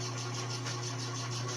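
Metal lathe running in back gear at 90 RPM while reaming the chamber of a 6.5 rifle barrel, giving a steady low mechanical hum with a faint rhythmic pulsing from the gearing, continuous and fairly quiet with no talking.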